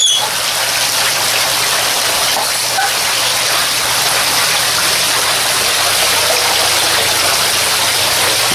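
Water fountains splashing into glowing ponds inside haunted attraction tents, making a steady, loud, unbroken rush of falling water with no voices.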